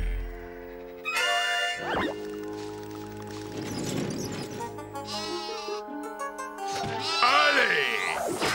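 Cartoon sheep bleat in a playful animated scene, with several wavering, nasal calls rising and falling at close range, interleaved with short squishy effects and a brief mouth-like bleat near the end.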